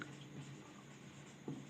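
Chalk or marker scratching across a board in a physics lecture room, a faint steady scraping with a brief louder stroke near the end.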